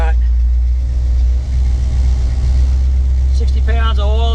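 A 1972 Chevy C20 truck engine idles cold just after starting, a steady loud low rumble throughout, with someone talking over it near the end.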